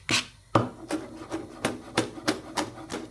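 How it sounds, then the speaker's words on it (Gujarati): A knife chops hot chillies finely on a board in about nine quick, evenly spaced, crisp strikes, close and fairly quiet, with no talk. "તો અહીંયા તીખા મરચાં લઈ લીધા છે, એને પણ એકદમ ઝીણા ઝીણા કાપી નાખીએ."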